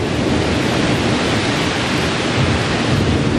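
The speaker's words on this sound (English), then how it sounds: "The rain is so heavy that it's actually making waves on the river" Very heavy rain pours down hard during a Florida storm over a river, making a loud, dense, unbroken roar of hiss and wash with no talking.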